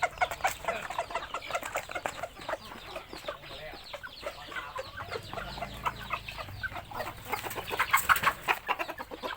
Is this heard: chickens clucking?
yes